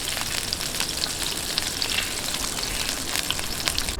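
Pork and shrimp fry in a pan with a steady, close, crackling sizzle that holds evenly throughout, with no talking.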